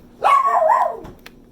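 A pet puppy gives a single short, high-pitched bark indoors, close and fairly loud, followed by a faint soft sound.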